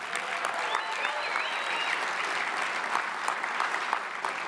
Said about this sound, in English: how about another round of applause for our great governor?